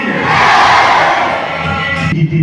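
A large crowd at a Kargil Vijay Diwas gathering shouts back in loud unison to a Bharat Mata ki slogan, a sustained roaring chant that swells and then tapers off.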